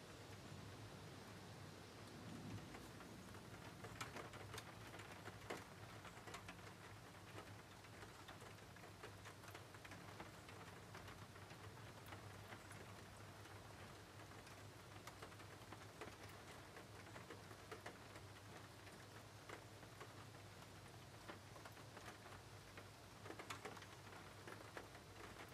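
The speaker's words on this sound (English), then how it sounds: "Only the sound of the rain at night" Steady rain falls at night against a window, a continuous soft hiss with faint scattered drop taps, even and unbroken throughout.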